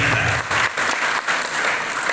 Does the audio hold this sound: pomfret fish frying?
no